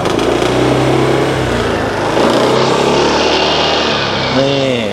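A Honda Click160 ABS scooter engine runs close and loud in a steady, continuous drone. Near the end it briefly rises in pitch.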